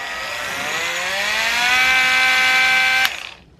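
A RAYBAO 12V cordless mini polisher whirs steadily as its motor spins up to a high buzzing pitch, holds there close and loud, then cuts off abruptly and winds down.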